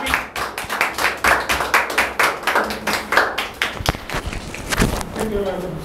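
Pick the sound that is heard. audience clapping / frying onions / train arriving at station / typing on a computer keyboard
audience clapping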